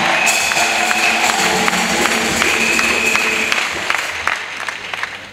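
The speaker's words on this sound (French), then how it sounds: "Acclamation à Jésus-Christ." A congregation at a missionary send-off in Côte d'Ivoire applauds and cheers in acclamation of Jesus Christ, with loud, continuous clapping and raised voices that ease slightly near the end.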